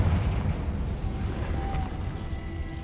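A Confringo spell explosion in the video game Hogwarts Legacy bursts with a loud low blast, then a rolling, rumbling tail that lingers for a few seconds with faint tonal shimmer on top.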